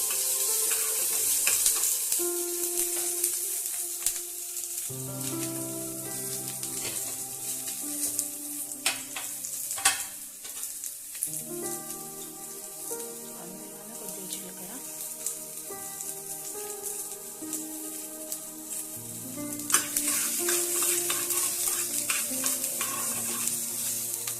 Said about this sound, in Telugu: ఫ్రై చేసుకోవాలి లైట్గా ఆయిల్ వేసుకోవాలి బాగా వేసుకోకూడదు